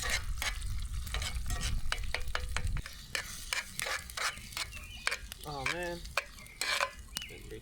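Scrambled eggs sizzle in a hot pan at a backyard campfire cookout while a utensil scrapes and stirs in repeated sharp strokes, close and fairly loud, with a brief chirping bird call partway through.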